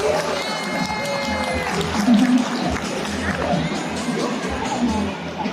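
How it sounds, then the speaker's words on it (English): Audience at a sea lion show at Singapore Zoo cheering, with a dense wash of clapping and excited voices, steady and fairly loud throughout. "Come on, everybody, big round of applause for the young lady."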